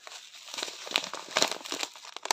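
Kraft paper packet of Indian black tea being handled and crinkled, a close series of dry irregular rustles and crackles with sharper crinkle bursts.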